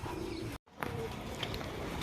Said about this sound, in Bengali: আর আলহামদুলিল্লাহ 5টা কবুতরের 4টে কবুতরই এসে পড়ছে।